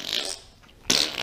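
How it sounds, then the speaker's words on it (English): A loud fart in two bursts, the first fading out and a sharper, louder one following after a short quiet gap, close up with no speech. "Can I do my loudest fart first?"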